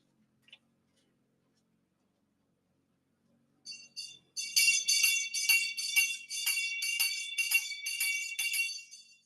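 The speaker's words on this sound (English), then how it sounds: "I am getting my bell. I love my bell. I really love my bell." After several seconds of near silence, a small bell rings in a rapid, steady series of bright, tinkling strokes that continue to the end.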